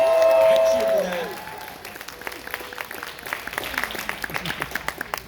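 A convention audience at the closing ceremonies of OMGcon 2024 breaks into applause and cheering after a host's voice, with dense, moderately loud clapping and scattered shouts continuing for several seconds.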